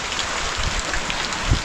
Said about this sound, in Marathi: सगळ्या पट्ट्याला पाऊस पडतो आहे आणि भयंकर पडतो आहे